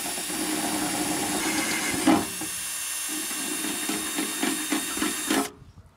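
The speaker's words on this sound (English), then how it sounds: "I'm going to be really careful when I'm drilling the holes in the rear valance and making them bigger" Power drill enlarging holes in the rear valance of a Mk III Ford Cortina, a steady mid-pitched whir running for about five seconds with a brief louder surge partway through, then stopping.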